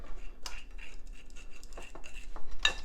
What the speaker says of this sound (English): You're gonna mix that all together